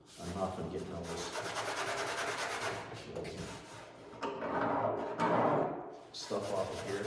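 A Scotch-Brite pad scuffing the body panels of a 1976 Trans Am, making continuous close abrasive rubbing strokes that rise and fall in steady back-and-forth rhythm.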